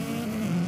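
Engine note of a car launching off the start line in the Forza racing game, a steady loud drone held through the whole brief moment, no talk.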